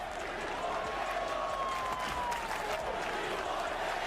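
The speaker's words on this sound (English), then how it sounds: "The chant is, we want Caleb." College football stadium crowd in Norman, Oklahoma, reacting after an interception, a distant, diffuse roar of massed voices and clapping that holds steady throughout, with a faint rhythmic chant buried in the din.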